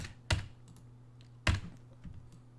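Two sharp, isolated keystrokes on a computer keyboard, likely the enter key, each a close crisp tap about a second apart, followed by a fainter click, over a low steady room hum.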